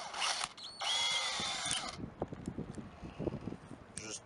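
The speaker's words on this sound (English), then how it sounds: "Just drill right through" A power drill drives a self-tapping screw with a washer through metal while fitting a tow strap, giving two loud whirring bursts and then a short final burst, with scattered clicks and knocks in between.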